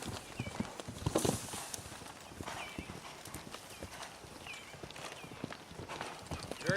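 A saddled horse moves about, its hooves clip-clopping in a steady, uneven rhythm on firm ground with occasional snorts, while someone talks quietly over it.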